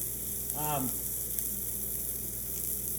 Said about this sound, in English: I want to get a really nice hard sear